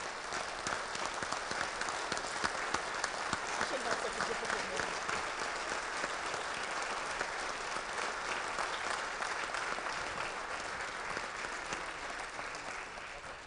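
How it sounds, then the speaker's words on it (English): An event audience at the Alpha Phi Alpha Eastern Region public program gives the Eastern Region Vice President a sustained round of applause, dense steady clapping throughout with some voices mixed in. "Please give a round of applause to our Eastern Region Vice President, Lucian"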